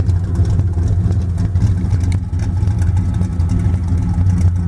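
A forgotten big block Mopar B-body V8 with a long-duration cam runs loud and close, a steady lumpy idle with a choppy low rumble and no voices over it.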